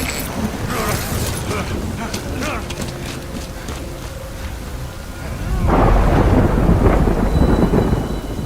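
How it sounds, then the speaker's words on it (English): Rain and thunder in the game Death Stranding: a steady wash of rain with rumbling thunder swelling louder toward the end, mixed with faint mechanical clicks and a brief tone in between. "Good thing it was raining."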